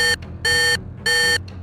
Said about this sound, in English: Alarms blare across the room as operators scramble to bring up radars